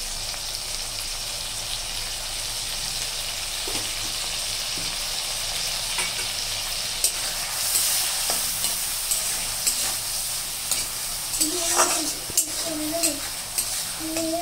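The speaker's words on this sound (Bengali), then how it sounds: "পেঁয়াজটা ভাজা ভাজা হয়ে গেছে" Onions frying in a pan with salt and turmeric added, sizzling steadily while being stirred, with scraping strokes and a few clinks of the spoon growing more frequent toward the end; no talk.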